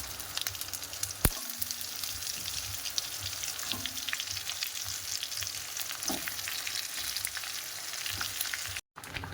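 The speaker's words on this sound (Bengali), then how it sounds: "আস্তে আস্তে এবারে ওপর থেকে আম দিয়ে দেবো" Steady hiss of raw mango pieces frying with dried red chillies, five-spice and bay leaves in a hot wok for a sweet-sour-spicy pickle, with a few sharp clicks and scrapes throughout.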